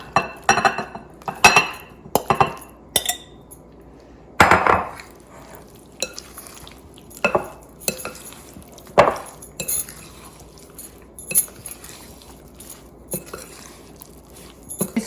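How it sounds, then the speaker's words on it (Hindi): Raw chicken and egg whites are mixed in a bowl for chicken Manchurian: close, irregular clinks and scrapes of a utensil against the bowl in uneven bursts, with wet stirring between them and quieter pauses. No talking. "इसको अच्छी तरह मिक्स करके मैं अभी छोड़ दूंगी"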